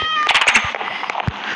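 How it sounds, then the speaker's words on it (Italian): A pet cat meows in a brief, fairly loud burst close by, with a sharp click or thump soon after and noisy background clutter throughout. "È il mio gatto!"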